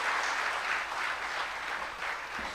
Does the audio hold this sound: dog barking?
no